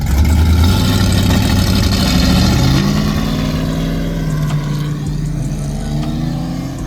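A turbocharged car drives away from a Cars and Coffee meet. Its engine drones loud and close, and the pitch climbs and settles as it pulls off, with no talking.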